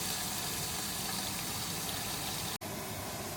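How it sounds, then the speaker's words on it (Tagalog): Water is poured into a hot pan of pan-fried gyoza dumplings, making a steady gushing, sizzling wash that continues for a few seconds and then cuts off abruptly with a brief gap. "Pag na pan fry na ilalim, buhos lang ng konti tubig."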